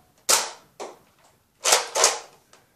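A Nerf Recon CS6 toy blaster fires foam darts, giving four sharp, close pops in two pairs with a faint fifth click, and no talking.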